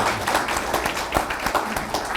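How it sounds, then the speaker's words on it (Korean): Audience applause after a hymn at a Christian worship gathering, dense clapping from many hands, steady and fairly loud for a couple of seconds. "다시 한번 큰 박수 해주시면 좋겠습니다"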